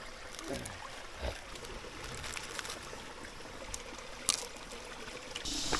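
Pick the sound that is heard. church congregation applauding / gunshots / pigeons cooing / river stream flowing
river stream flowing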